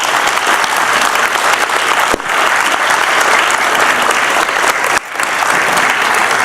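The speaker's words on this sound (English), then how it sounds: "So please give this panel a warm round of applause." A large audience claps loudly and steadily for a panel of developers, a dense, sustained round of applause heard close and filling the whole stretch.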